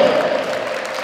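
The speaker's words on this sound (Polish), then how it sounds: "I wielkie brawa dla grającego trenera, pan Kamil Dziukiewicz." Brief burst of crowd applause in a volleyball hall during team introductions before a match between Dartom Bogoria Grodzisk Mazowiecki and Kolping Frac Jarosław, dense clapping over a loud sustained hall noise.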